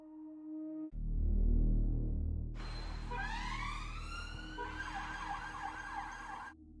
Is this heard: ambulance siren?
yes